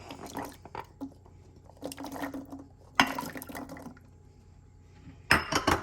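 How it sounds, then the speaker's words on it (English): Raw carrots dropped into liquid in a slow cooker pot for a pot roast, giving several close splashes, wet squishes and light clinks against the pot in short bursts with quiet gaps between. "Now you're gonna take your carrots, add it to your liquid."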